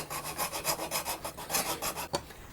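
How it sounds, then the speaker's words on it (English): A small triangular needle rasp files into the corner of a wooden electric guitar neck near the truss rod nut, making steady, close, rhythmic scraping strokes with no talking. "this is a good chance for me to use my new little karate triangle needle rasp to get down in that corner."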